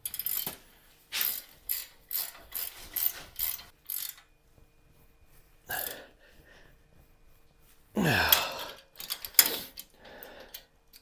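A ratchet works on bolts on a Jeep, giving bursts of quick clicking strokes with pauses between, fairly close and alone, with no talk.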